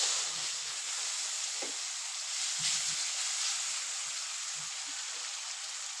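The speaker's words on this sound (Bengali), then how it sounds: "দুইটা তেজপাতা দিয়ে দিলাম এখন আমি দিয়ে দিব কাঁচা কুচানো পেঁয়াজ" Chopped raw onion with bay leaves sizzles in hot oil, a loud, constant hiss that fills the whole stretch, with a few faint low clinks underneath.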